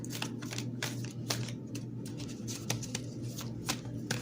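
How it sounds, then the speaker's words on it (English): Tarot cards being shuffled close up, a continuous run of quick papery riffles and taps with a steady low hum underneath, no voices. "Give it 3 more shuffles."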